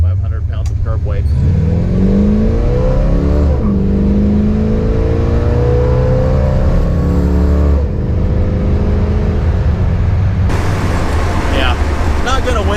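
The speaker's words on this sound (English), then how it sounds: "So do a little acceleration pull here for you guys." A 1956 Chevy with a 275 horsepower engine, weighing 4,500 pounds, accelerating hard: a loud, steady engine roar climbing through gear shifts with a brief dip, heard from inside with someone talking over it.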